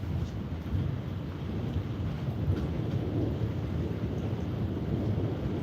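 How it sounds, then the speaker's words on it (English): A fading thunderstorm keeps up a constant low rumble under a broad hiss of rain, even and unbroken at moderate level. "the storm's dying down."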